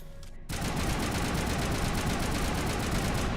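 Rapid automatic gunfire from a weapon in the Mass Effect video game, starting abruptly after a brief quiet moment and continuing as a loud, dense, continuous burst of closely spaced shots.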